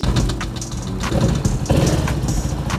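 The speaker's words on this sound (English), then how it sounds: "we will try to start the engine up and see if we hear some funny noises." A Honda PCX160 scooter engine with a 63mm 173cc big bore kit sputters to life and settles into a steady, loud idle with a throaty rumble.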